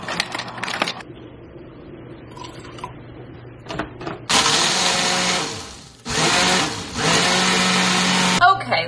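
A blender whirs loudly through a chilled coffee drink in two long sustained runs with a brief dip between, after quieter moments of kitchen handling and talk.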